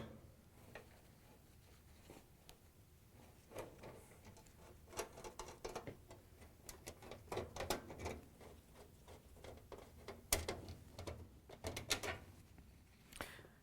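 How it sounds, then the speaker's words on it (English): A Torx 20 screwdriver backing screws out of the top console of a GE washer, with close, quiet clicks, ratcheting and rattles in irregular bursts and occasional sharper knocks, and no speech. "We're going to use our Torx 20 screwdriver and remove the screws across the top."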